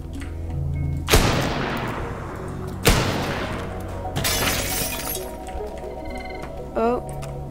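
Rocket launcher blasts and crumbling destruction in the voxel video game Teardown: two sharp loud explosions about two seconds apart, each with a long shattering, rumbling decay, followed by clattering debris and a brief whooshing launch near the end.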